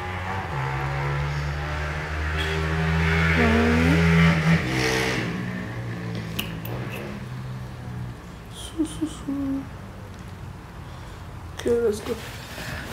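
A car in the Roblox Brookhaven game revs and accelerates with a synthetic engine drone that rises in pitch, then fades, followed by scattered short game sounds and brief voice moments.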